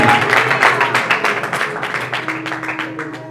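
A church congregation claps in praise, with steady rhythmic hand claps close by and voices and music carrying underneath.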